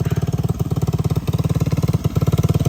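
A Vespa ET4 125 scooter engine runs nearby with a loud, steady rapid putter, its pulsing beat holding even throughout after carburettor and variator cleaning.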